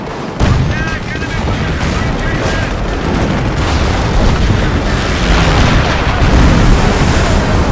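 Battle at a base in Company of Heroes, with loud gunfire and booming explosions crowding together almost without a break, and radio-style voices calling out over the din.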